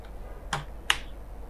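Two sharp, separate clicks of keys being pressed on a computer keyboard while typing in MS Word, close and fairly quiet against a soft background hum.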